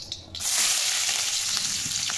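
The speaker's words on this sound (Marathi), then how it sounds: "सुरुवातीला आपण 2 पळी तेल कढईत टाकून घेणार आहोत आणि लगेचच त्यामध्ये कांदा" Onion hits hot oil in a kadhai and bursts into a loud, steady sizzle that continues without a break, preceded by a brief quieter moment and a faint clink; no voices.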